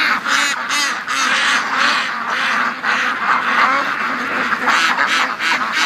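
Ducks quacking at a lake, a loud close chorus of overlapping quacks and honks in irregular bursts that continue for about six seconds without a break.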